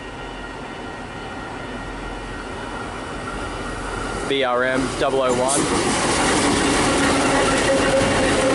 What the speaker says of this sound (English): Looks like some interesting locomotives. Is it a coal train?